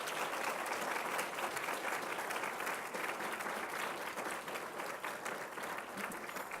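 A dinner audience at a public service awards event applauds steadily, a dense wash of many hands clapping that holds at an even level for several seconds without any voices standing out.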